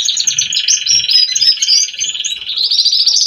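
A caged canary, a harlequin-type hen, sings and calls close by in a continuous stream of bright, rapid twittering trills and chirps, with faint low knocks in the background.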